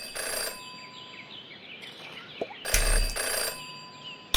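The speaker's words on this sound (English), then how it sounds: "Jenny had learned never to ignore a ringing phone." A telephone rings in the video game Jenny LeClue: two bright electronic ring bursts, the first brief and the second longer, separated by a quiet pause with faint background tones.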